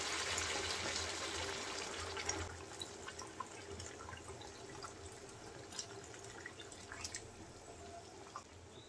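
Hot water poured into a pan of simmering chana dal curry, a steady liquid pour loudest at the start and easing into gentle bubbling and faint drips, with no talking.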